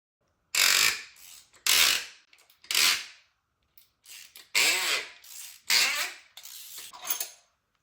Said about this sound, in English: the noise they were making as Mike started tightening them down